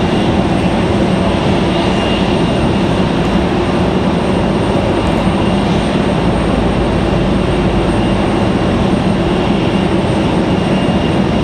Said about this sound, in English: Nice slow touchdown for the Delta CRJ.